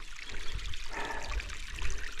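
River water flows along a rural walking route, a steady broad rush with small splashing and trickling surges, close and continuous with no voices.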